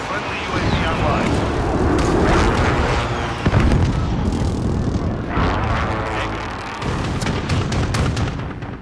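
Explosions from a precision airstrike in the shooter game Modern Warfare: loud booming blasts and rumbling impacts over continuous gunfire and engine roar, with a sharp burst near the middle and a sudden drop later, heavy and close throughout.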